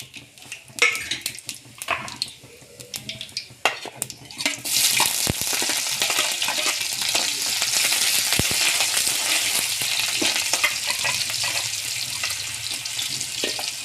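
Cumin seeds hit hot oil in a pan and set off a loud, steady sizzle that keeps going, after a few soft clinks and taps of utensils against the pan.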